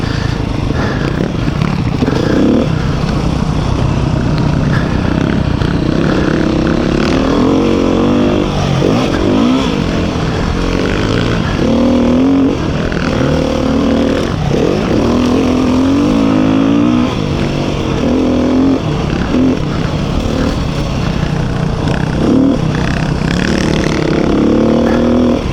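A 2021 Beta 390 RR Race dirt bike engine drones and revs steadily on a trail ride, the four-stroke note rising and falling with throttle blips and gear changes, loud and close the whole time.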